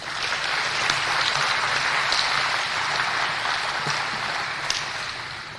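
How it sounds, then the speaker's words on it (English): Steady applause from a crowd at a national security forum for three speakers fills the whole stretch, even and sustained without pause. "please join me in a round of applause for our three distinguished speakers"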